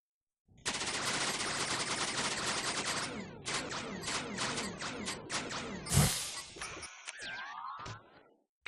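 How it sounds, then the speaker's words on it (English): Creatinator ammo fire in the LittleBigPlanet video game, a long rapid stream of shots like machine-gun bursts, then shorter volleys, a sharp crash and a sliding whistle, loud and close. "The Creatinator can fire anything you can dream of, and probably more."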